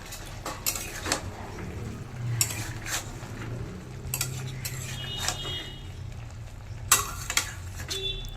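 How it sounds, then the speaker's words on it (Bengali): Spiced sis palong (amaranth stalk) curry being stirred in a pan: a spoon scrapes and clinks against the metal in scattered taps over a soft steady sizzle, moderately close. "ভালো করে নেড়ে চেড়ে মিশিয়ে নেব"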